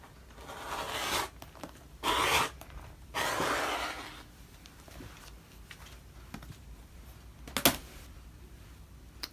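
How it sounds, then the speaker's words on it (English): Rotary or scissor cut through two overlapping scraps of quilt batting, pressed firmly: several short rasping, scraping strokes in bursts, close up and fairly quiet, with pauses and a couple of small clicks between. "I'm going to put a little more pressure on it this time when I cut."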